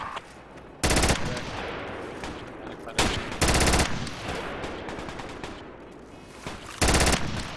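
Automatic gunfire in the military shooter Project Reality comes as loud, close bursts, with the bursts arriving about one, three to four, and seven seconds in. Quieter distant shots and battlefield noise fill the gaps between them.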